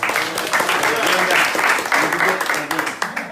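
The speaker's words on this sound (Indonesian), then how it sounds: "Tepuk tangan dong" Audience applause after a personal tribute at an Indonesian fellowship gathering, a loud, steady wash of clapping with voices mixed in throughout.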